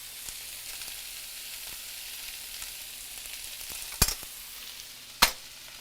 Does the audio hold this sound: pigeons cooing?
no